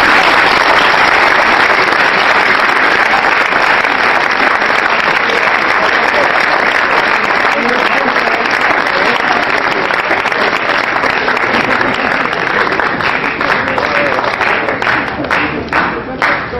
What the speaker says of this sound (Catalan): ho trobo d'una genialitat que mereix un aplaudiment